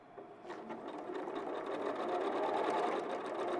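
A sewing machine stitches a handle onto a sewn item, a steady whirring run that swells slightly over a few seconds, close and alone with no talking.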